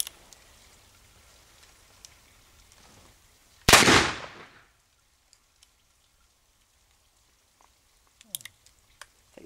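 A single sharp gunshot from an 1858 Remington revolver copy cracks loudly and decays quickly, with quiet outdoor ambience before and after and a few faint clicks later.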